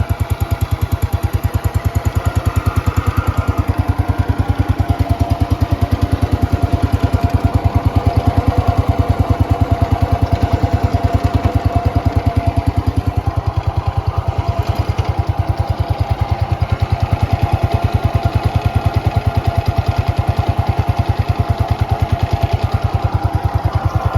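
A Cub Cadet 104 garden tractor engine idles close by, a loud, steady, rapid thumping chug that runs the whole time with no talking.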